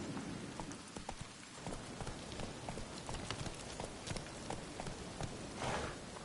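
A horse's hooves clip-clop steadily in The Witcher 3, a rapid, even stream of hoofbeats at moderate distance, fairly quiet, with no voices over it.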